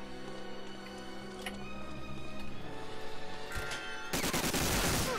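Machine gun fire in Medal of Honor Allied Assault: a rapid, rhythmic stream of shots that keeps going, then a loud, harsh burst near the end, fairly close, with no one talking.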